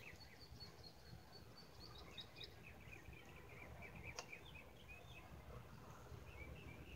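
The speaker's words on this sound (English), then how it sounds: "And listen to birds. Y'all hear the birds?" Faint birds chirp and trill intermittently over a soft, steady outdoor hiss.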